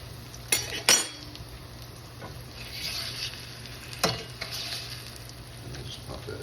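A utensil cuts the edge off a fried egg in a pan, with a few sharp metallic clinks and scrapes over a quiet background sizzle.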